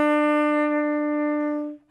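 Single sustained E on a tenor saxophone, a steady, clear held tone lasting close to two seconds before it cuts off, played alone with no talking.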